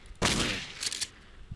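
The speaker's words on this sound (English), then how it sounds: "let me waste all my shotgun ammo and then I will see where I can go from there" A single loud shotgun blast from the Dead Pixels video game, followed by a quieter ringing tail and a couple of smaller thuds.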